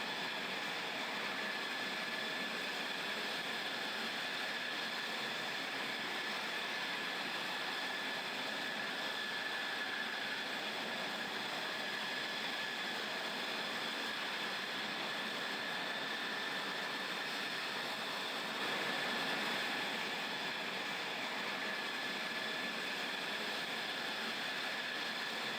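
F-16 fighter jets taxi past Japanese Air Self-Defense Force aerial tankers at Red Flag Alaska, giving a steady, loud broadband jet engine roar that holds without pause.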